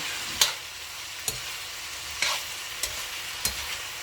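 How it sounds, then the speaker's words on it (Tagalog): Green beans and other vegetables for pancit bihon are stir-fried in a pan: a soft continuous sizzle broken by about five sharp scraping stirs, evenly spaced and close. "I'm just gonna stir it up as well. It's only like you're making a stir fry."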